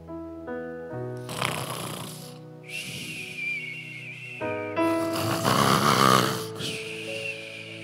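A voice imitates a person snoring during a sermon, giving long wheezing, whistling inhales and rattling snorts in repeated cycles, loud and close on a church microphone.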